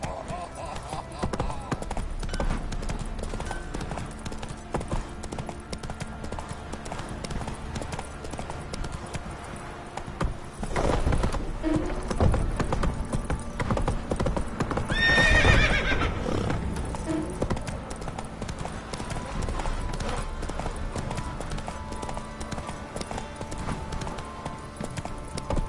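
A horse gallops through The Witcher 3: Wild Hunt with continuous rhythmic hoofbeats, neighs and whinnies over game ambience, and someone speaks over it now and then.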